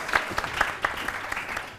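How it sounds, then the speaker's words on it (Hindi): A studio audience on a TV morning show claps in a brief, fairly light round of applause, scattered individual claps audible within the steady patter. "तालियां जी"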